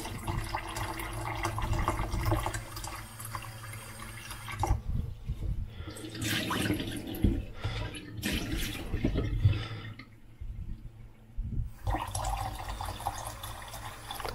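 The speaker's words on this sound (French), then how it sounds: "Je remets de l'eau froide." Cold water runs from a kitchen tap into a container for pizza dough, a hissing, splashing stream that starts and stops several times, with short quiet gaps between pours.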